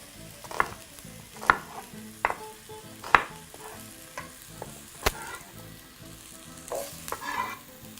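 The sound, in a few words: sautéing onion and vegetables in a pot for curry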